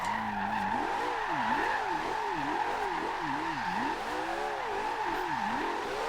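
Porsche 918 hypercar tuned past 1400 hp drifting on race tires in Forza Horizon 2, engine droning steadily in fourth gear while the revs swoop up and down in repeated waves, with continuous tire squeal layered over it, loud and close throughout.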